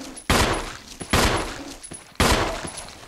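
Three loud gunshots ring out in the Resident Evil Remake, spaced about a second apart, each a sharp blast trailing into a long echoing decay, with no talking.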